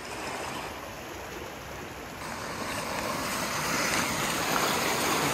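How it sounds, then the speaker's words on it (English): Water pours out of a hillside beside a collapsed road on Palomares Road, a continuous loud broadband rush that swells slightly toward the end, with no voices. "the water coming out."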